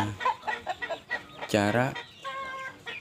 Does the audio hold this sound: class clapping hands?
no